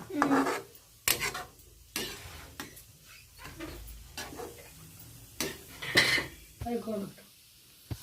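Manathakkali greens being sautéed in oil in a pan, heard as irregular metallic clinks and scrapes of a spoon against cookware, a few sharp knocks standing out over a quiet, near background.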